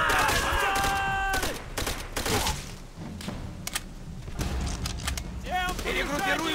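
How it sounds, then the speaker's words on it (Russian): Bursts of rifle and machine-gun fire in the Call of Duty: World at War battlefield, dense volleys early and scattered shots later, with booming impacts and a voiced shout mixed into the game mix. "Хороший выстрел, Миллер!"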